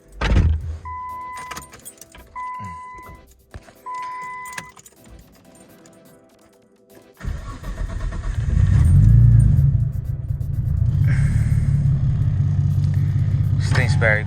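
A car is cleared out of a work bay during a suspension install. Keys jangle and a few chimes ring, then the engine cranks and catches into a low, steady idle that holds close by. Brief talk is heard near the start.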